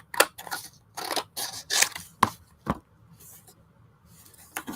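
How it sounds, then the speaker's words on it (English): Repeated crisp snips of scissors cutting paper for a collage, several close rapid cuts in bursts followed by quieter gaps, heard near and clear. "I think I'm going to cut this top off"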